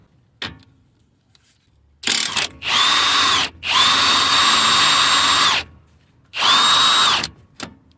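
Pneumatic impact gun spinning a 17mm sway bar link nut on a Toyota/Lexus suspension, firing in several loud bursts of a second or more each, with short pauses between and a sharp click before the first.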